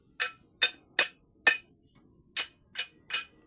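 A hammer strikes metal while a kingpin is being replaced, giving seven sharp, ringing clinks in a fairly steady rhythm with a brief pause partway, close and clear with no talk.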